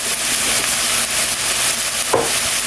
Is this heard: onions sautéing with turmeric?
yes